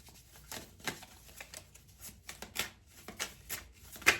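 Tarot cards being shuffled, a rapid series of soft papery riffles and slaps repeating at a steady pace, fairly quiet and close, with no talking.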